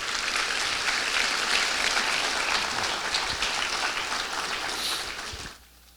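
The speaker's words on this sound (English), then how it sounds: "Give them a round of applause as well." A school honor roll assembly audience applauds steadily and fairly loudly for about five and a half seconds, then the clapping quickly dies away into near quiet.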